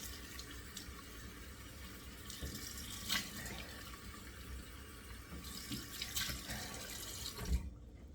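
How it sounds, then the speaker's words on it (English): Cold water runs from a tap with soft splashes and a clunk or two, quiet and close, with no voices. "let me do 2 splashes of cold water"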